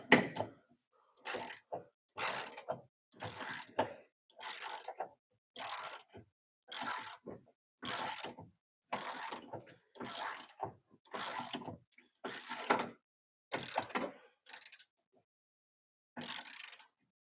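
A ratchet tightening the CV and hub parts on an MR6, heard as about a dozen evenly spaced bursts of rapid clicking with short pauses between them, close and clear with no talk.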